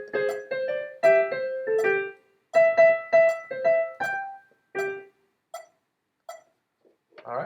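Solo piano right-hand melody of the Super Mario ground theme, bright staccato notes in bouncy phrases with short pauses, played alone at a moderate practice tempo and ending on a few sparse notes.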